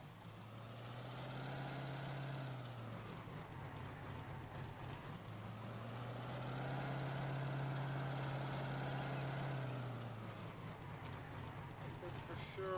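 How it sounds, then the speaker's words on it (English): A tractor engine in Farming Simulator 19 revs up and eases off twice, a smooth droning hum that rises and falls, with someone talking over it. "Man, this tractor sounds good."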